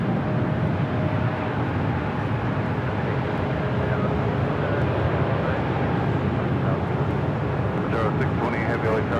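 A Breeze Airways Airbus A220-300 rolls down runway 24 left at Los Angeles airport, a steady broad roar of engine and wind noise, heard at a distance and holding at a constant level throughout.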